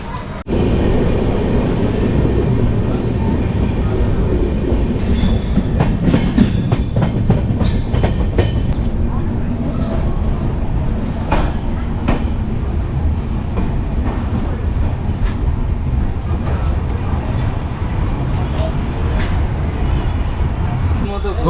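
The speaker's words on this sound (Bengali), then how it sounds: "কামাখ্যা থেকে আমাদের ট্রেন ছেড়ে দিচ্ছে" The Saraighat Express passenger train departing Kamakhya rumbles steadily along the tracks with a continuous loud roar and scattered rattles and clacks throughout.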